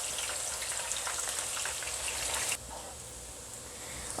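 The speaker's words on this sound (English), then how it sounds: "Now in the same oil, and the heat is still on medium, I'm gonna add my onion and then fry until nice golden brown in color." Onions frying in hot oil over medium heat for chicken kalia, a dense steady sizzle and crackle heard up close with no talking, dropping to a softer hiss partway through.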